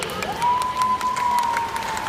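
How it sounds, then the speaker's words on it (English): Audience applause rises from the stands at a Brookfield Zoo dolphin show, a steady wash of clapping and cheering heard up close, with a sustained high whistle tone running through the middle. "now by round of applause, how many of you think that is the beautiful Allie?"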